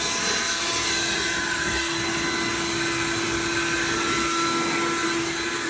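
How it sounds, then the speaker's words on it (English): Vacuum cleaner runs steadily and loudly on sun-faded carpet inside a 1978 GMC C15 pickup truck, a continuous whining roar with no pauses and no talk. "And then you go back and vacuum, but it just makes it easier to vacuum."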